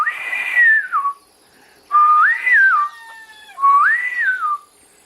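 A shepherd whistles to his sheep in three long, rising-and-falling whistled calls with short pauses between, clear and fairly close, with no talking.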